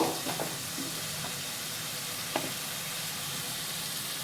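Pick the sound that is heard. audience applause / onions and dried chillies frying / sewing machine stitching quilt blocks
onions and dried chillies frying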